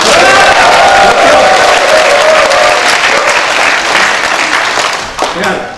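Applause from a crowd at a Bareun Mirae Party leadership convention fills the hall, a loud, dense, steady wash of clapping with some voices mixed in, thinning slightly near the end.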